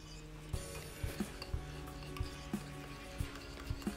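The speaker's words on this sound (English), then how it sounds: "Haluin lang natin ang mabuti." Sesame chicken sauce with roasted sesame seeds being stirred in a pan, heard as a steady series of soft scraping, clicking strokes at a regular rhythm, close and fairly quiet, with no talking.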